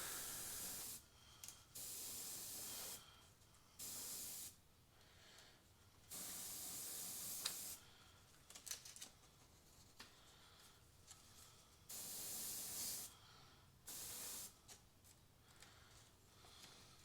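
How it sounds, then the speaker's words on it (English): Airbrush hissing paint onto a realistic skull in repeated bursts of a second or two, separated by brief pauses, close and steady with no talking. "so I'm going to spray that in now."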